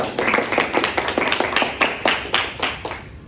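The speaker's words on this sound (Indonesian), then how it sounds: "tepuk tangan dulu untuk tim kita" A small group claps together at a school library management roleplay, a quick run of close, sharp hand claps that tails off at the end.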